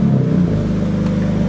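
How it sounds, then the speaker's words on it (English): A BMW 3 Series E90 engine idles with a steady low rumble just after starting, close and continuous with no talk. "now what we'll go ahead and do is actually fire up the engine"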